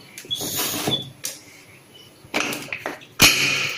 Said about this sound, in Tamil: ஊற்றிட்டு மூடி போட்டுடலாம்